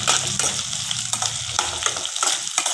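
Cut green chillies frying in a hot pan, a steady close sizzle with scraping stir strokes and light crackles running throughout.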